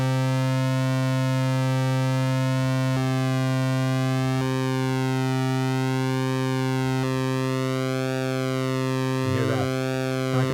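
A SID synthesizer pulse waveform with its LFO switched on holds one steady, loud buzzy tone for about ten seconds, its upper harmonics sweeping up and down in slow regular waves as the pulse width modulates, with a few faint clicks of key presses.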